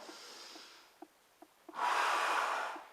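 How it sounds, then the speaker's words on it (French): A person doing a push-up breathes in as they lower toward the floor: a few faint sniffs and clicks, then one long, audible inhale close to the listener. "j'inspire en descendant"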